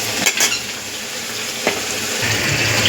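Fish sizzles steadily in hot oil in a home kitchen pan while lunch is cooked, a continuous close frying hiss broken by a few sharp clinks of a utensil stirring against the pan.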